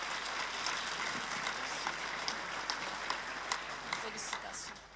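Audience at a town New Year's greetings ceremony in Habsheim clapping for an honoured member, a steady crowd applause with scattered sharper claps throughout.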